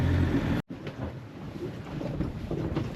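Sailboat motoring under engine at sea between the Canary Islands and Cape Verde, a steady low engine drone mixed with wind and water rush, continuous and fairly loud after a brief dropout.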